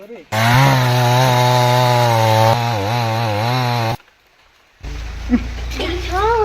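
A chainsaw, a tree-cutting machine, drones loud and close with a steady buzzing pitch that wavers, cuts out abruptly, then returns more roughly after a short pause.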